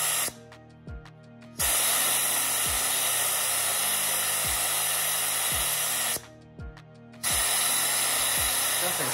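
A spark plug cleaner blasts grit with compressed air in a steady, loud hiss that cuts out twice for about a second. Faint rhythmic ticking runs underneath throughout.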